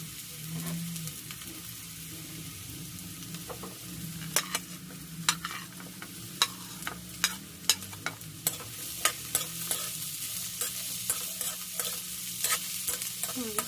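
Carrots are stirred into a pan of sweet and sour fish, the frying sizzle running steadily underneath while a spatula strikes and scrapes the pan in a regular series of sharp, close knocks.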